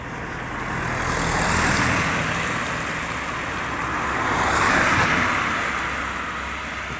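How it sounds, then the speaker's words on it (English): Cars swell past one after another on a quiet road alongside a field, each a soft rising and fading whoosh, heard from moderately near without anyone talking. "A couple of cars just gone past because we're alongside a not so busy road."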